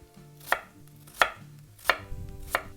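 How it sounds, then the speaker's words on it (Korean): A knife slices radish into thin pieces on a cutting board, four crisp, evenly spaced chops landing close by with quiet pauses between them. "얇게 썰어주세요"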